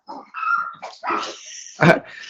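Several dogs barking and yipping close by in a short burst, a few sharp barks and whiny yelps over about two seconds, with no talk.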